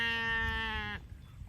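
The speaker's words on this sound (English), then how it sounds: "There's around 200 small ruminants in this field of Sudan grass. Some are still looking for their mamas." A single long, loud bleat from one of about 200 small ruminants grazing a Sudan grass field, a sustained wavering cry that cuts off abruptly, leaving quiet field ambience.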